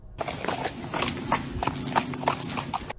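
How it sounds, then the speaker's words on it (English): Horse hooves clip-clop on an empty road in a steady walking rhythm, sharp and heavy, ringing out close by with a slight echo. "the distinct sound of horse hooves begins echoing nearby, sharp, heavy, and getting closer by the second"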